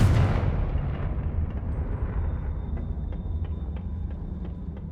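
A Confringo blasting spell explodes in Hogwarts Legacy, opening with a loud, close burst that decays into a long rumbling tail. Faint clicks and a high ringing tone linger beneath it.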